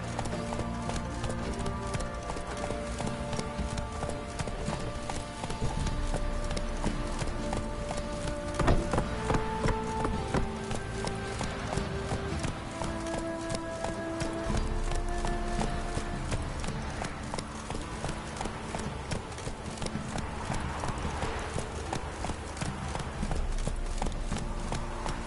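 Roach the horse gallops in The Witcher 3, hooves clip-clopping in a fast, continuous rhythm for the whole stretch, with faint game music and ambience beneath.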